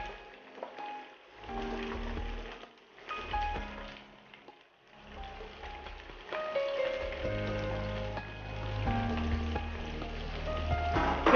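Stuffed chillies frying in masala crackle and sizzle in hot oil, a steady close hiss with stirring scrapes and some quieter gaps, no talking.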